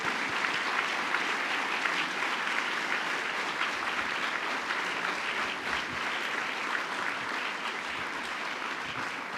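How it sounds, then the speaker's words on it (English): Banquet guests at a chamber of commerce annual awards dinner clap steadily throughout, a dense, even patter of many hands heard from some distance in a large room. "That was a pretty good round of applause."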